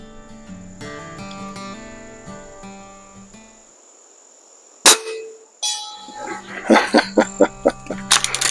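Pellets from a Baikal MP60 air rifle strike a target in a series of sharp metallic impacts, coming in a quick irregular run after a quieter stretch with a steady high insect-like whine in the background.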